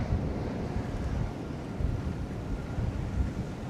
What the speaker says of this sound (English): Look at how that wind's picked up.